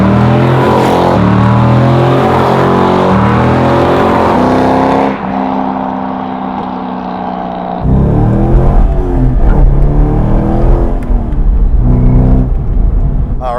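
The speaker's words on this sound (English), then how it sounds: "here we go for a cruise with my buddy Mike's C5 Z06 Corvette 2004" A 2004 C5 Corvette Z06 V8 roars loudly up close as it accelerates on a road drive. The note climbs through the revs, dips at a gear change, then surges again with a deep, rumbling exhaust.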